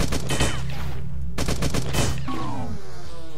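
Loud, close gunshots from the retro-style shooter video game Beyond Sunset, a rapid volley of cracks in the first second, then two more shots with ringing decay and a falling electronic tone.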